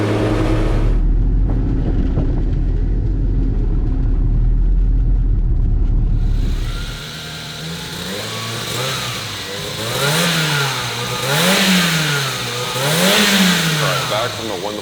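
A Ford RS200 Group B rally car with a mid-mounted engine roars under hard throttle at first, then rises and falls through repeated revs and gear changes while driving, with voices talking over the engine.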